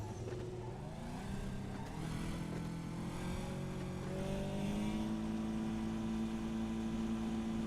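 McLaren 720S sports car engine in the New State Mobile video game, a steady revving drone that climbs in pitch as it accelerates, sustained and fairly close throughout.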